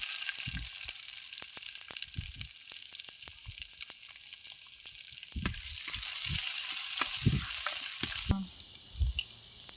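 Curry leaves and onion frying in a pan for a village-style banana stem stir-fry, a soft steady sizzle with scattered low knocks and scrapes of stirring that swells briefly before easing off.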